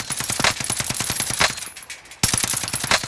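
Sustained automatic gunfire from Call of Duty: Modern Warfare, a rapid, steady rhythm of loud close shots that stops briefly for a gap and then resumes just as hard.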